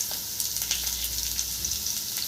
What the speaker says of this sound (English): On high flame, I'm going to saute this nice and well in the oil